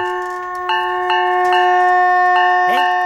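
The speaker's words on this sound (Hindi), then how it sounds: "प्यून के साइकिल की घंटी।" A bright metallic bicycle bell rings several times in quick repeated strikes, its tone sustaining steadily between hits.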